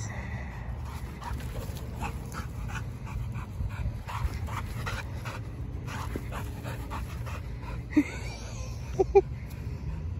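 A dog pants steadily and rapidly close by for about ten seconds, with a faint whimper or yip near the end. There is low background noise and no clear speech.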